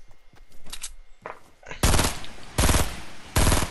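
Enemy gunfire in a video game: a few scattered shots at first, then three loud bursts of rapid automatic fire, each lasting roughly half a second, close and harsh.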